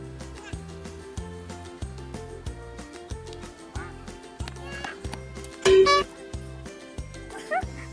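A horse whinnies loudly once over a steady, rhythmic musical backing with a repeating low beat, and faint hoof clip-clops may sit beneath it; the setting is a tourist spot where women ride horses.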